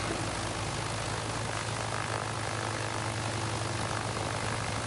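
A steady, loud aircraft engine drone from a PS5 flight simulator cargo game holds constant after the throttle is reduced, a dense propeller hum with no pauses or talking.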